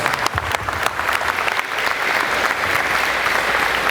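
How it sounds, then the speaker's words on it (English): Loud, sustained applause from a crowd at a youth conference keynote, with a few sharp close claps at the start before the sound settles into a thick, continuous roar of clapping. "Thank you all for the round of applause."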